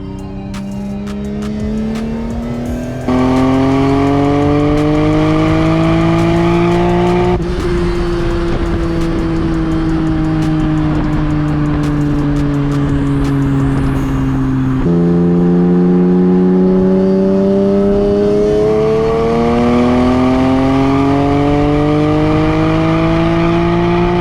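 A BMW E46 M3 engine pulls hard on a chassis dyno, a loud, steady, harmonic roar sweeping upward in pitch over several long pulls, each ending in a sharp drop before climbing again, with no voices.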